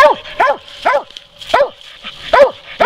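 A hunting dog barks repeatedly at flying squirrels in West Virginia woods, sharp close barks coming in a steady rhythm of about six over a few seconds, with no talk.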